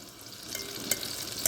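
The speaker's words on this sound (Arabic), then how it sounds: "هتسخن معانا السمنه، وبعدين هننزل بيها بالرز اللي احنا غاسلينه كويس" Washed rice tipped into hot ghee in a pan for Egyptian fatta, frying with a steady soft sizzle while being stirred, with a couple of sharper scraping clicks near the end.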